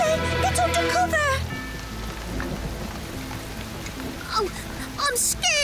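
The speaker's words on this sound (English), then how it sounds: "It's only a summer storm, Pip." Rain patters steadily in a summer storm, a continuous hiss of falling drops with a faint thunder rumble, and children's cartoon voices speaking at the start and end.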